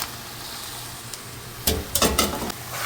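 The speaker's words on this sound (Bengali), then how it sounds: "এখন আমি এই যে শেষে রাখা মানে থেতলে রাখা কচু এর মধ্যে দিয়ে দিচ্ছি" Mashed taro tipped into a pan of frying meat-spiced masala, giving a few close bursts of sizzling and stirring scrapes after a quiet simmering start.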